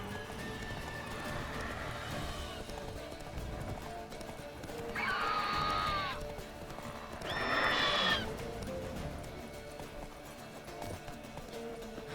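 A horse in The Witcher III video game gallops with steady, rhythmic clip-clop hoofbeats and gives two loud, clear neighs partway through, over a faint game background.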